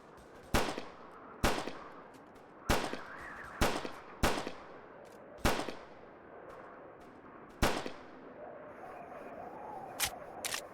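Enemy gunfire in the winter combat survival game Winter Warfare Survival: sharp, loud single shots crack at irregular intervals, about eight in all, each trailing a short echo, with a quieter rumble between them.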